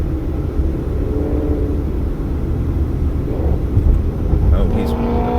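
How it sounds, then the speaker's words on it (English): A Corvette revs and races along a Las Vegas street near Nellis, apparently against an older Camaro; a steady low engine roar rumbles under road noise and swells louder toward the end. "It sounds like there's a Corvette up here that is attempting to race or something."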